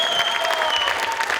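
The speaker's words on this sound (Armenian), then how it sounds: "ծափահարենք նրան" Concert audience applauding at an Armenian culture day event, a dense, steady wash of clapping filling the hall for a short burst with no voices.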